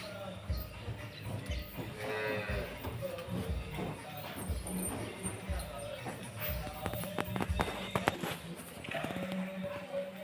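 Indoor shed ambience with soft shuffling, thuds and intermittent animal sounds from buffaloes nearby as one is milked by hand, and occasional quiet voices in the background.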